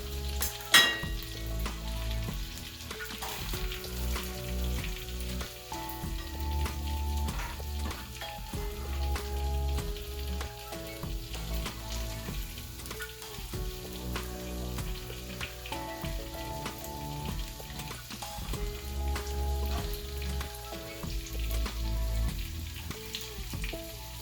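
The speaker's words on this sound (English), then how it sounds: "now there goes my onion now." Onion fries for butter chicken in a home kitchen pan. A constant soft sizzle crackles throughout, with occasional stirring clinks and scrapes. There is no talking.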